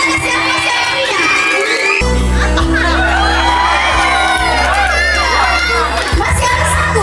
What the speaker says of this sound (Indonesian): Luar biasa, kita kasih aplaus yang meriah Bapak Ibu.